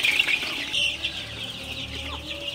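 Sonali super hybrid chicks in a poultry shed cluck and peep in repeated, overlapping bursts, loud and close, with no talking.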